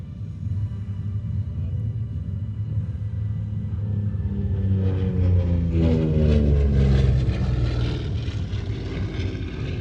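An A-26 aircraft makes a high-speed pass at the Thunder Over Louisiana airshow, its piston-engine roar swelling as it approaches, peaking with a Doppler sweep and then fading, loud and continuous with no talk.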